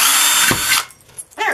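A power drill bites through a metal mason jar canning lid with a loud, close, high whine, then stops, followed by a short clatter and a second brief burst of drilling.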